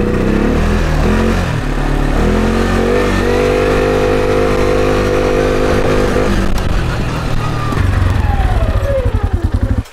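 A farm tractor engine runs loud and close as it drives, a steady low rumble throughout that swells and revs up toward the end, with no talk.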